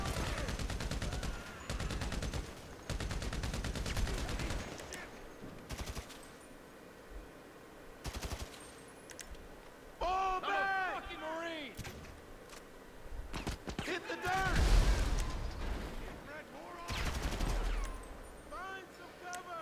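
Gunfire in GTA V Online, repeated bursts of shots early on and again later, with a person talking in between over game sound.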